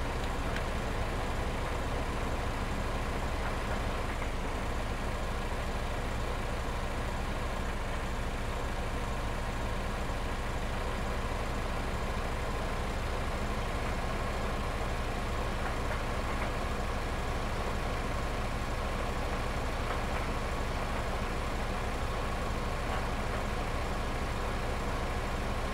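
A tractor engine in Farming Simulator 15 drones continuously as it drives, a steady, even low rumble throughout with no speech and little change in pitch.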